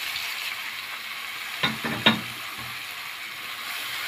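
Onion drops into hot oil in a pan already used for frying tuna, a steady close sizzle with a brief clatter and crackle as the pieces go in, then even frying hiss.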